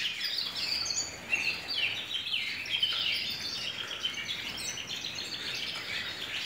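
Many small birds chirping busily while bathing in dripping water, with dense, overlapping high tweets close by and steady throughout, no talk.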